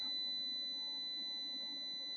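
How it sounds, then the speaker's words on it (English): A continuous high-pitched electronic tone sounds steadily without pause, like an alarm buzzer droning from a nearby inverter while charging at 10 amps. "Excuse the beeping. I haven't turned that option off on the inverter yet."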